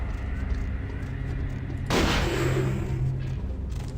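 A single loud, sharp video-game gunshot bursts out midway with a cracking blast and short reverberant tail, over a constant background rumble.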